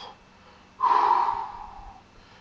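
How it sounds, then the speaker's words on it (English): One loud, sharp breath is drawn in through the nose, lasting about a second before trailing off. It is heard alone, as part of deliberate breathing practice. "They also taught me how to breathe. In through the nose. Out through the mouth."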